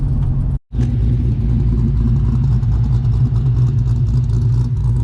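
An LS1 V8 fitted in a VN Commodore rumbles loudly and steadily nearby, broken by one brief cut-out before the deep, throaty drone carries on.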